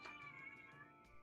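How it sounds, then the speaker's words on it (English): A cat meows once, faint and somewhat distant, drawn out with a slight wavering tone, heard in the background of a tabletop role-playing game session. "I just heard a cat."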